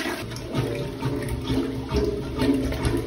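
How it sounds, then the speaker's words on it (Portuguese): Water is poured into a clogged toilet bowl to build pressure and clear it, a close, rushing, splashing flow that surges and gurgles in uneven waves. "Vamos encher ele de água para ver se dá uma pressão maior."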